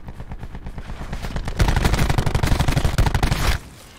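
Rapid close-range automatic gunfire from hip firing in the video game Black Ops 4: a loud, dense burst of shots lasting about two seconds, preceded by quieter game sounds.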